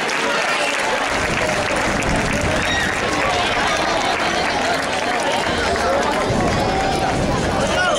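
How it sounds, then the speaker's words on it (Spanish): A crowd at a bull festival in Casinos applauds loudly in a long, dense wash of clapping and cheering, with a hubbub of voices mixed in throughout. "Un aplauso para ellos."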